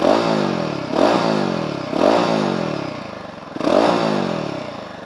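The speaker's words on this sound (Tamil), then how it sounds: "இந்த மஃப்ளர்லேருந்து வர சவுண்டு செம்ம ஸ்போர்ட்டியாகவே இருக்குது." Exhaust of a 2024 Royal Enfield Himalayan 450 motorcycle with a short mid-slung muffler, revved repeatedly in four close, loud surges that each rise and then fall back, with a throbbing beat throughout.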